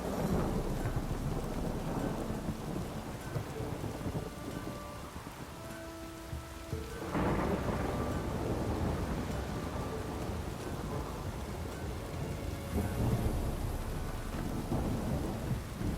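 Heavy rain pours steadily in The Witcher 3: Wild Hunt while low thunder rumbles and swells, with a sharp crack of thunder midway through.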